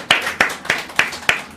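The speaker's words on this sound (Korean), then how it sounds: "우리 먼저 하나님 앞에 영광의 박수 한번 돌리도록 하겠습니다" A church congregation at a Christmas service claps in a slow, steady unison rhythm, five or six sharp beats about a third of a second apart, with faint murmuring underneath.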